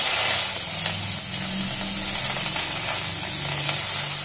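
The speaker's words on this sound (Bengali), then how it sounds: "ফ্রিজে একটা কাকরোল ছিল, দেখলাম একদম মানে শুকিয়ে গেছে, তার জন্য ভেজে নিচ্ছি" A dried-out bitter gourd (kakrol) fries in a pan, with a steady close sizzle and occasional crackles, running continuously without any talk.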